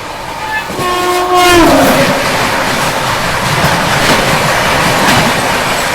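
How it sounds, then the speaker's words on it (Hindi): The Kanchenjunga Express from Sealdah to Sabroom approaches, sounding a long, loud horn blast early on, then its rumbling carriages and wheel clatter roll steadily and close for the remaining seconds. "देखो अभी सामने से ये आ रही है कंचनजंगा एक्सप्रेस, सियालदा से सबरूम वाली।"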